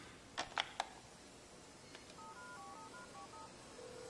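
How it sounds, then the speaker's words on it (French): A telephone being dialed in a French action film: a few clicks, then a quick run of touch-tone beeps and a steady tone, all fairly faint and with no one speaking. "Ça a l'air de sonner."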